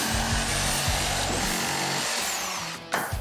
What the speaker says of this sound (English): Hook me up the Sawzall and I'll cut it out